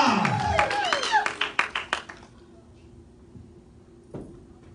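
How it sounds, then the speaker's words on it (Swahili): A church congregation claps for God, a burst of quick, loud, scattered hand claps that thins out and stops within about two seconds, followed by quiet room tone. "Hebu mpige Mungu makofi."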